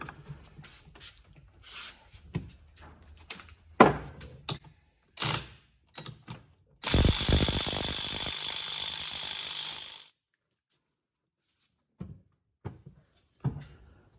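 Ratcheting and mechanical clicks while a Loctite-coated nut is tightened on the rear end of a 1962 Ford F-100, scattered short clanks followed by a few seconds of dense, loud ratchet or tool noise, then silence and a few faint taps.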